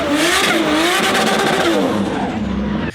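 A 500 kW Nissan S13 Silvia with a swapped 1.5JZ engine and a 6Boost manifold revs hard and close, rising and falling with gritty exhaust harmonics in a loud, continuous roar that cuts off abruptly at the end.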